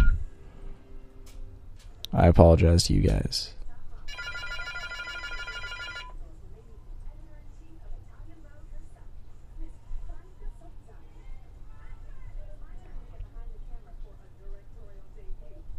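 A telephone rings during a Friday Night Magic game, a Splinter Twin versus Valakut match. A short burst of bright, buzzing ringing lasts about two seconds after a loud thump, while people talk nearby in a room.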